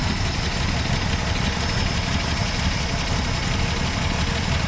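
A Slant 6 engine in a 1966 Dodge Coronet, with the carburetor recently adjusted and a slight flat spot on throttle, running at a steady loud idle up close with a constant rumbling drone and no speech.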